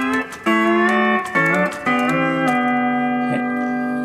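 A steel guitar plays sustained, sliding notes that bend slightly off pitch, loud and close, with no talking.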